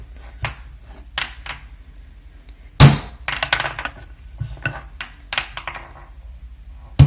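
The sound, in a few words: lump of clay slammed down on a table while wedging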